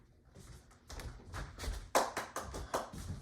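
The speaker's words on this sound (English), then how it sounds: "Let's clap." A small audience claps after a speech, giving scattered, uneven hand claps that build to a few sharper slaps before trailing off, quiet and fairly close with no talking over them.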